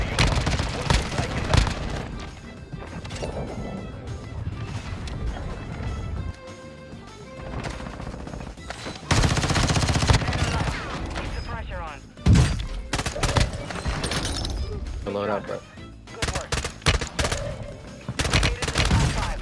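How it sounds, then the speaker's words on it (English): Call of Duty Warzone gameplay with mortar strike explosions and gunfire: loud, dense bursts of blasts and rapid shots continue nearly throughout, mixed with game voices and music. "Hostile mortar strike incoming."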